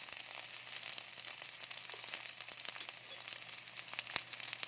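Garlic frying in a very hot wok for ginataang papaya, a steady close sizzle with crackling pops throughout, no talking.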